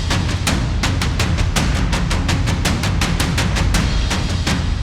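Layered cinematic percussion section of drums, a tom ensemble and taikos pounding in a steady driving rhythm, loud and dense with sharp repeated hits over a continuous rumbling low end, no voices.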